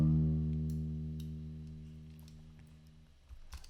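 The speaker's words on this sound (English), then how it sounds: "we're gonna add another camel crusher on that to make it louder and a bit more distorted to sound like this" A Japanese trap beat pushed through an added Camel Crusher distortion plugin: a loud, fuzzy sustained bass tone with rich harmonics fading over about three seconds, sparse ticking hits on top, then a short burst of punchier percussion near the end.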